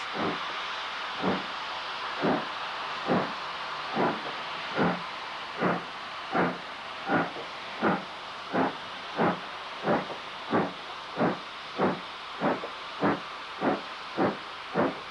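A steam locomotive on a Lancashire and Yorkshire line passing under Orlando Street Bridge near Bolton, with steady rhythmic exhaust chuffs repeating evenly throughout over a constant hiss.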